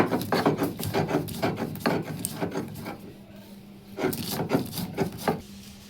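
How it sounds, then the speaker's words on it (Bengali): Cashews being ground by hand on a stone grinding slab for a vegetarian paneer masala, giving steady rhythmic rasping strokes up close that pause briefly midway and then resume, with no talking. "এবারে আমরা কাজুটা বেটে নেব।"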